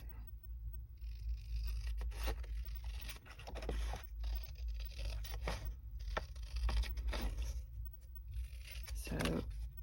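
Scissors snip and scrape through paper while cutting out background shapes for a handmade mid-century modern craft tag, a steady run of close rustling cuts over a low background hum.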